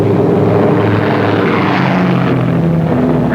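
A Douglas A-20 bomber takes off with its twin engines roaring, a loud and steady drone that holds close and continuous with no break.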